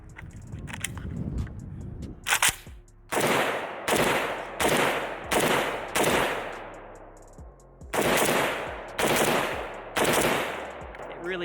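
A Pioneer Arms 556 sporter underfolder AK rifle fires in loud, close shots and quick strings, with short pauses between bursts and sharp echoing cracks outdoors.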